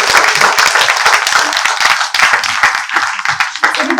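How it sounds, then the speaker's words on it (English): An audience clapping for a Mrs. India and Mrs. Earth winner, many close, sharp hand claps in a lively, dense patter that briefly thins before picking up again. "with the number of claps I'm hearing"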